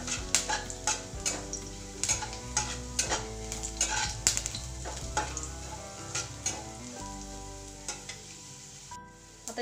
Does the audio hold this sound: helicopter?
no